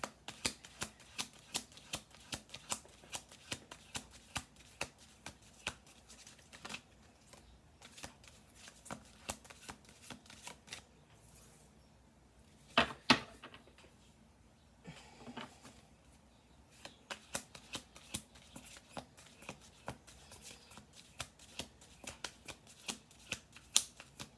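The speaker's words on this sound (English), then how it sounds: "We're going to do 2 more shuffles" Playing cards being shuffled in repeated riffles, crisp rapid clicking bursts with brief pauses between them, close by.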